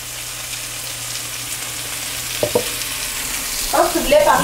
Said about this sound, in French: on va faire sauter les champignons